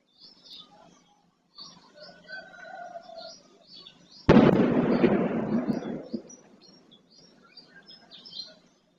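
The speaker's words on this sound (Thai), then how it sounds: "ยังคงต้องยิงปืนใหญ่ เพื่อสนับสนุนทางฝ่าย แนวหน้าอย่างต่อเนื่องนะคะ" A single deep artillery boom from guns firing in support of the front line rolls out and fades over a couple of seconds, distant yet weighty, with birds chirping softly before and after in the morning.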